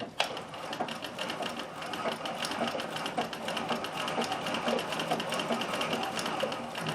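A Singer Circular Stitcher, model 161847, stitches flat fabric up close, with a steady, fast, even whir of needle strokes that runs without a break and no voices.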